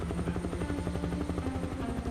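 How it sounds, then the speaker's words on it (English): Steady rotor chop and engine whine of a helicopter being flown in a video game, loud and continuous with a rhythmic pulsing throughout, no voices over it. "This helicopter, man. I cannot fly this thing."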